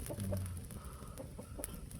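Soft clucking from a hen, a few short calls scattered over a low background rumble, fairly quiet and a little distant.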